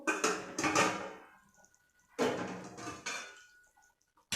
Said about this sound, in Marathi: तर आपण ताट उघडून बघू.